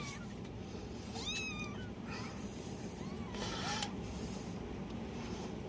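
A litter of three newborn kittens gives several thin, rising and falling meows, a few short cries spread out over a steady low background hum, fairly faint and close, with no voices.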